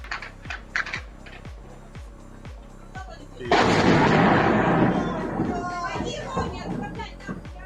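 A rapid series of sharp booms rings out at an oil depot during a drone strike, then a heavy, roaring blast that keeps rumbling and crackling for several seconds, loud and fairly close.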